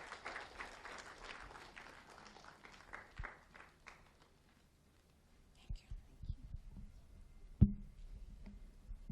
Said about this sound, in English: let's keep clapping till she gets here